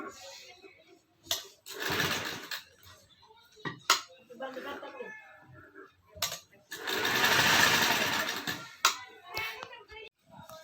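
A sewing machine stitches a reinforcing strip onto the side slits of a garment, running in several short bursts and one longer run, close and clear, separated by pauses and handling sounds.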